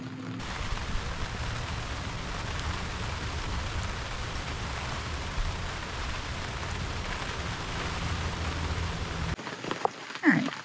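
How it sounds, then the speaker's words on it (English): Steady rain patters densely on a fabric car awning on a Toyota 4Runner for several seconds, a constant hiss with scattered louder drops and a few knocks near the end. "now that it's actually raining"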